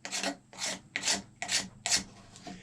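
Scraping a cow horn to make a simple powder horn, pushing the blade along the surface rather than carving: five steady rasping strokes in an even rhythm, close and clear, with no talking.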